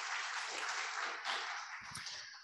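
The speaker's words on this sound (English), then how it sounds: "Give him a big round of applause." Steady applause from an audience at a church Sunday service, continuous and even for a couple of seconds, filling the room at moderate level.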